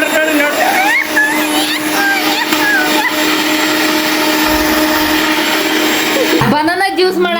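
An electric blender whirs loudly and steadily as it purees banana juice, with people talking over the motor before the sound changes near the end.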